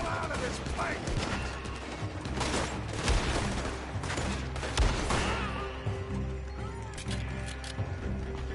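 Gunfire crackles in Red Dead Redemption 2, a dense fusillade of shots rattling fairly close in repeated bursts through a shootout, with voices talking over the firing.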